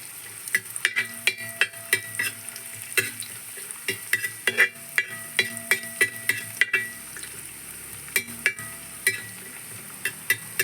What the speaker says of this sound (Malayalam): നമ്മുടെ അണ്ടിപ്പരിപ്പും കിസ്മിസും ഒക്കെ ഒന്ന് വറുത്തെടുക്കണം